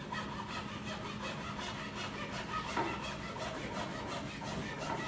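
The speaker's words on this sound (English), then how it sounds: "I let the saw weight start to go, and I can actually cut it." A hand saw works steadily through wood in a workshop, its strokes rasping in an even back-and-forth rhythm, close and moderately loud, with no voices.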